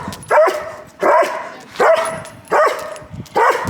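A dog barks repeatedly at another dog it passes while out walking on a harness, five sharp barks in a steady rhythm, close and loud.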